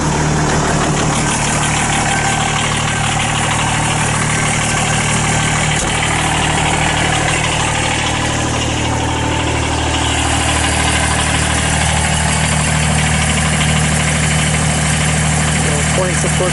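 A 26-horsepower three-cylinder Kubota BX2670 compact tractor idles, heard from inside its heated cab as a loud, steady diesel drone and vibration, with someone talking intermittently over the engine.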